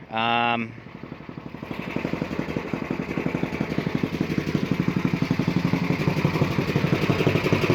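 An MTD 10/24 snowblower engine runs steadily after a carburetor cleaning, a close, even mechanical chugging with a fast regular pulse, following a brief loud burst at the start.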